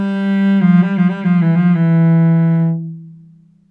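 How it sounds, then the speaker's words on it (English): A cello plays a passage from Breval's Sonata in C Major at tempo 60, a sustained low note with a quick ornamental flurry in the middle, then the held tone fading away alone. "So in tempo 60, it will sound this way."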